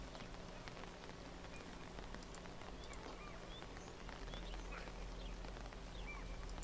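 Steady rain falls throughout in the video game Book of Travels, a dense, even patter of drops on surfaces that stays moderately loud from start to finish, with no talking.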